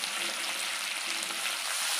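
Water hits a hot pan while gunda sambharo cooks, giving a dense, continuous hiss of sizzling that stays loud and steady throughout, with no talk.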